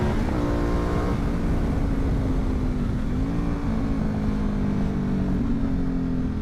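A motorcycle engine arriving on a mountain road at Terminillo, a steady loud drone with a rising and falling pitch as the bike approaches close by.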